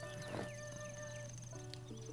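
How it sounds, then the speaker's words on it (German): In Zelda: Breath of the Wild, a game horse snorts briefly over soft hoof clip-clops against a steady ambient game soundscape, with faint tonal music running underneath. "Dieses Pferd scheint dir noch nicht besonders zu vertrauen."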